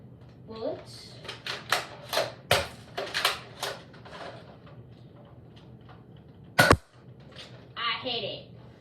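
A Nerf gun loaded with a sticky bullet fires once, a single sharp close snap between stretches of talking.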